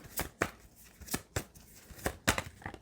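Tarot cards being shuffled by hand, a series of crisp riffling bursts in an irregular rhythm, close and fairly quiet.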